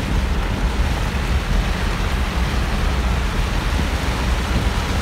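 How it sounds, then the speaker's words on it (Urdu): Heavy rain pours steadily in the Tharparkar desert, heard from a moving vehicle as a dense, loud, unbroken wash of noise with a low rumble underneath and no voices. "اب جیسے ہم جا رہے ہیں اور بارش پڑ رہی ہے اور زیادہ بارش"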